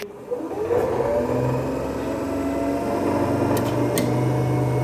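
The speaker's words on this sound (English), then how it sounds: "DC motor has started." A DC motor starts up and runs near synchronous speed during a slip test on a three-phase synchronous machine, a steady mid-pitched electric hum rising in the first half-second, then holding continuous and fairly loud with faint ticks.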